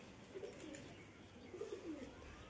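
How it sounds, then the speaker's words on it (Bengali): Two pigeons newly paired as a couple coo softly and intermittently, a few low, rolling coos at close range over a faint ambient background. "এরা নিজেরা জোড়া নিয়েছে কবুতর দুটো।"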